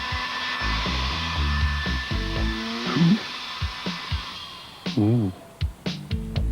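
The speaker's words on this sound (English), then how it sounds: "Hairdryer." A hair dryer whirs steadily at close range for several seconds before cutting off, followed by brief scattered noises.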